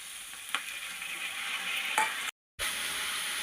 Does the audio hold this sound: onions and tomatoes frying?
yes